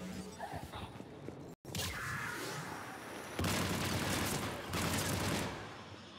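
Sniper and other gunfire rattle through a Mass Effect 3 battle as dense, sustained bursts of shots and booms that swell louder partway through.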